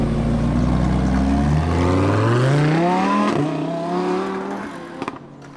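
A black Lamborghini Huracan Performante pulls away from a cars-and-coffee meet, its loud engine climbing through rising revs and gear changes before receding into the distance.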